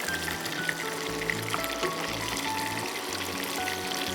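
Lemon butter chicken fries in a pan over raised heat, giving a continuous close hiss and bubbling sizzle with faint low scraping underneath.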